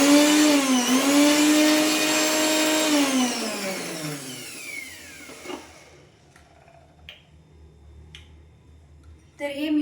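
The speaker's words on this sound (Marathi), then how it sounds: "तर मिरच्या पण आपण मिक्सरमधून काढून घ्यायच्या." A kitchen mixer grinder grinding green chillies with cumin for a moong dal and cabbage dish, a loud high whine that winds down and stops, followed by quieter clicks and handling sounds.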